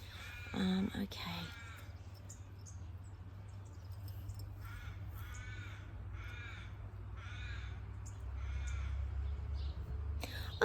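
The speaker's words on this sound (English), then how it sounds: "loads of birds today, isn't there" Crows caw repeatedly outdoors in a series of harsh calls spread through the clip, with other birds around, under a steady low hum; a person speaks briefly near the start.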